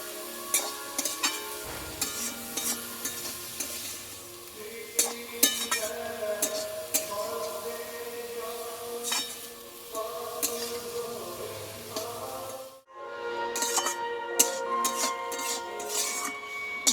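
Red amaranth greens (lal shak) frying in a pan with salt, stirred steadily with a utensil that clinks and scrapes repeatedly over a soft sizzle, close by, with a short silent gap before the stirring resumes.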